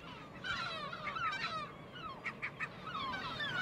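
Gulls call repeatedly over a gravel riverbank on the Lower Rhine, a chorus of moderately faint, slurred cries overlapping in the distance.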